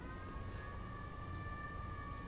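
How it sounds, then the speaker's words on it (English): Police car sirens sound outside as a steady, distant wail that holds a sustained tone throughout, faint and continuous with no talking. "I'm just going to talk over top of the sirens and the helicopters."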